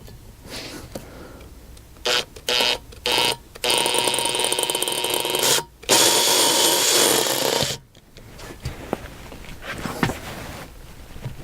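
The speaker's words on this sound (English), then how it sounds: "let's see if I can't find a drill and get this out" Bursts of a power drill working on a ball oiler in a PM25 milling machine during a CNC conversion, the motor whining in several short pulses and then one longer run, close and loud in a quiet workshop.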